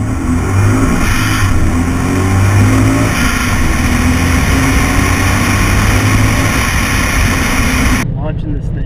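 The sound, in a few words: supercharged Mustang launching and accelerating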